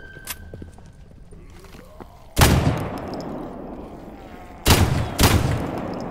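Gunfire in the S.T.A.L.K.E.R. Gamma video game: three loud, close shots with reverberant tails, one standing alone and then a quick pair, over quiet ambient background.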